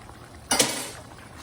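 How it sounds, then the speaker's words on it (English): A single clattering burst sounds as sauteed broccoli, carrot, onion, ginger, garlic and bell peppers drop into a chicken stir fry pan, then fades quickly. "what I'm going to do at this point is just add my sauteed veggies in"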